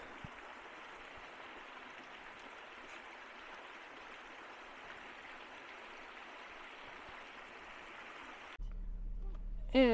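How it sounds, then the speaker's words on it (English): A mountain creek at Little Elbow in Kananaskis, in a rainy setting, rushes with a steady, even hiss of flowing water for about eight seconds before the sound abruptly cuts to something else. "The mountain creek."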